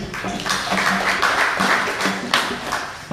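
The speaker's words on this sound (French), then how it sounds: "Applaudissez pour lui." Audience applause at a panel forum on digital careers in Porto-Novo, steady dense clapping from a room of people lasting throughout, moderately loud with a slight swell midway.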